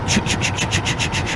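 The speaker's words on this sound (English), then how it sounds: "the brake pad was rubbing, and that was making this" A brake pad rubs against a slightly offset caliper on a hub, making a quick, rhythmic swishing scrape that repeats about every tenth of a second, close and steady.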